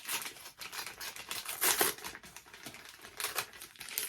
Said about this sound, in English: Rustling again.